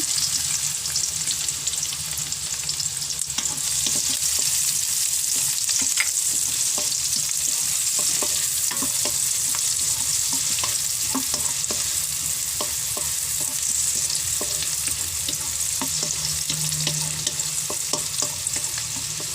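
Garlic and onion sauté in a hot pan for Batangas lomi, a steady loud sizzle running throughout with scattered stirring scrapes and clicks, no talking.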